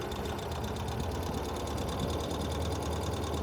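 A 2023 Ural Gear Up IKB Blue sidecar motorcycle engine running in second gear, a steady rapid mechanical chatter and low drone, close and continuous with no talk.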